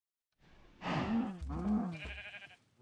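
A bleating farm-animal call in the video game Minecraft, meant as a cow's moo: two drawn-out, wavering cries in close succession, fairly quiet and alone, with no talk over them.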